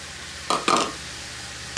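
Sugar is stirred into softening strawberry rhubarb in a pan, making two or three short, close scraping swishes of a spoon against the pan over a quiet, faint simmering background.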